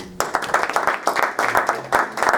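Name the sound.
audience applause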